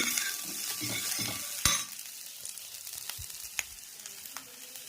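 Food for sambar sizzles and hisses in a hot pan while a utensil stirs and scrapes, with a sharp clatter partway through.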